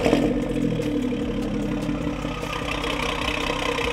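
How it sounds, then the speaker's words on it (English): A BMW F30 340i with a B58 engine runs just after startup, giving a loud, steady, close rumble with a slight rise in revs and no cracks or pops. "So you guys could hear the startup roar there. RPMs lift up a little bit."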